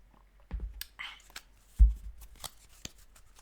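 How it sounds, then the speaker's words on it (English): Tarot cards being shuffled close to a microphone: soft riffles and sharp papery slaps in a few short bursts, with a faint whisper-like voice nearby. "I'm trying to pull away from the microphone as I shuffle."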